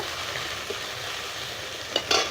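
Fish masala for doi tangra, seasoned with chili powder, salt and a little sugar, fries in a pan with a steady low sizzle and faint stirring, then a couple of sharper scrapes near the end; no one speaks.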